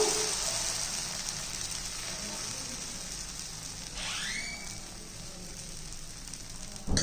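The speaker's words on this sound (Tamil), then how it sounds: "இப்போ உங்களுக்கு தோசை ஊற்றி காமிக்கிறேன்ப்பா. இப்படி நல்லா மெல்லிசாக மெதுவாக அப்படியே பரப்பணும்" Horse gram dosa batter spread thin across a hot pan gives a steady, close sizzle that hisses evenly from start to finish, with no talking.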